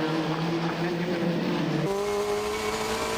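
TVR Tuscan race cars at full throttle on the Knockhill circuit, a loud sustained engine howl that shifts abruptly in pitch midway as gears change, close and continuous with no talk.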